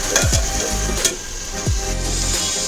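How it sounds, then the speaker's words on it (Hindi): Potatoes fry with chili powder in a pan for a mackerel fish curry, giving a steady close sizzle broken by a few scraping stirs of the spoon, with no talk. "इसको आराम से भूनेंगे जब तक कि आलू प्रॉपरली पक नहीं जाता"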